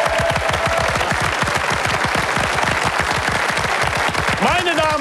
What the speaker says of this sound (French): je demanderai au public quelques applaudissements, s'il vous plaît, pour remercier nos 6 candidats